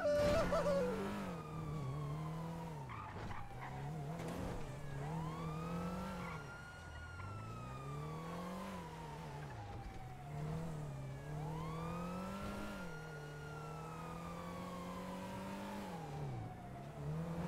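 A car in the GTA video game, driven on a Nopixel roleplay server during a Fleeca Bank robbery, its engine revving up and down in repeated rising and falling surges, loud and close, with a siren-like wail mixed in.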